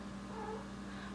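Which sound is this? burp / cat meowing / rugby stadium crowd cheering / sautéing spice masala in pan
cat meowing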